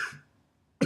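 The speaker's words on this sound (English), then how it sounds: "you still obviously get some of my cough that I can't stop apologizing for" A single dry cough opens, followed by a short silence and then the start of a second cough, close and fairly loud.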